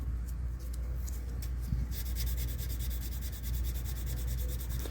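Sandpaper wrapped on a dowel rod rubs over a firearm part, a close, steady scratchy back-and-forth rasp in rapid strokes, alone with no talking.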